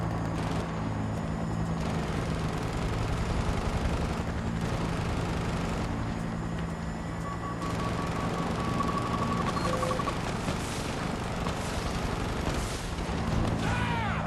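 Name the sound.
helicopter flying in Battlefield video game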